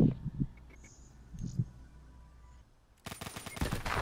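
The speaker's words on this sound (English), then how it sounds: "I just started shooting everything." Video game gunfire breaks out near the end as a fast, loud burst of rapid shots after quieter moments with faint bits of other sound.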